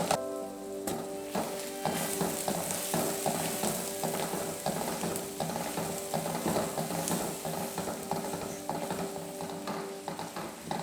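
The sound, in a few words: chopped onions frying in sunflower oil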